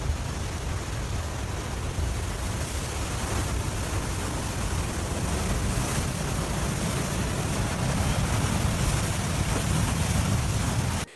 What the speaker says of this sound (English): a frozen river is violently shattered by the powerful water surging beneath